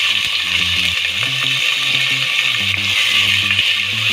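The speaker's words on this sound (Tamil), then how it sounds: "வெங்காயம் வதக்கட்டும் நல்லா" Onions fry in hot oil with popping mustard seeds and urad dal for sampa wheat rava upma, giving a steady close sizzle and hiss with small crackles and the occasional scrape of a utensil.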